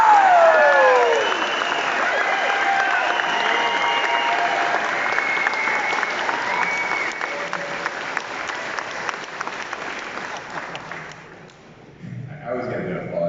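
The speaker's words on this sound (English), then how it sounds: "I was getting an applause at that one." Audience applause at a politician's speech in Sault Ste Marie, Ontario: a dense, steady crowd clapping with a few voices mixed in, holding strong for about ten seconds before thinning and dipping, then briefly picking back up.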